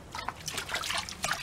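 Water sloshes and trickles in a gold pan as gravel is worked outdoors, with wet splashes and drips close to the mic.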